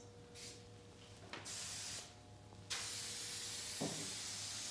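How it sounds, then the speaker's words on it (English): An airbrush hisses in short spray bursts of thinned lacquer paint, then settles into a steady, close spraying hiss with a faint hum underneath. "This is spraying much nicer now,"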